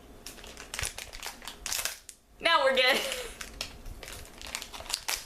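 Crinkling plastic and a few scissor snips come through, with a short burst of talking partway through and rustling continuing around it.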